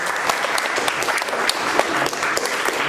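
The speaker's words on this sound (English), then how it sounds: "give a round of applause to all of you because you are here" Guests at a graduation party clap together in a brisk, dense burst of applause, many hands close by, sharp and uneven, filling the whole short stretch without pause.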